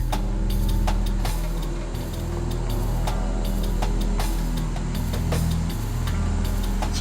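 An Earthcruiser four-wheel-drive truck creeps down a steep slope in first gear, its engine a low steady drone with clunks and rattles from the body and suspension, close and continuous.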